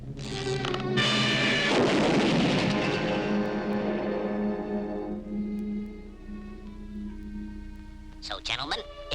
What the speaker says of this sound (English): You may fire when ready, Von Kedley.